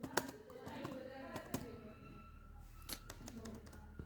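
Keystrokes on a computer keyboard tapped in short irregular bursts, close and fairly quiet, with a few sharper clicks spaced through it.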